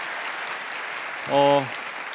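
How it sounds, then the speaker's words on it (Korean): Applause from an audience at a lecture, a steady, even wash of clapping throughout, with a voice briefly speaking over it midway. "서로가 서로에게 힘찬 박수 부탁드리겠습니다"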